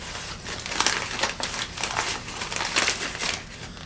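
Newspaper wrapping a souvenir from Honduras is crinkled and crushed in a continuous run of dry, papery rustles, with bursts near 1, 1.5 and 2.8 seconds, close and fairly loud, with no voices.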